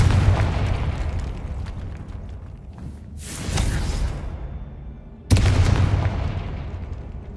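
Fiery blasts of the Confringo explosion spell in the Hogwarts Legacy video game, with a rumbling boom near the start, a second swelling burst around the middle and a sharp loud explosion near the end, each followed by a roaring tail.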